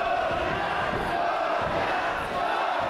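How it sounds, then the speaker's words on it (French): Wrestling crowd at a live rumble match cheering for Paul Goliath, a steady roar of many voices filling the arena without letup, with shouted cries rising throughout. "Et la foule qui acclame Paul Goliath"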